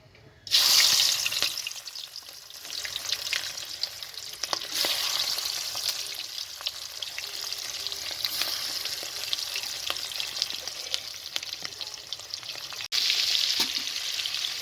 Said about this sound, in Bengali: ভাজবে, কড়াই দিচ্ছি।